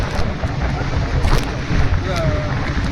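A boat slowing on the sea near a coral beach in Phuket, a loud continuous rush of water and wind buffeting the microphone, with a faint voice partly buried in the noise.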